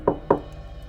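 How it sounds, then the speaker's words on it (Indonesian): Two sharp knocks on a wooden door in quick succession, close and clear, followed by quiet. "mengetuk pintu rumah tersebut."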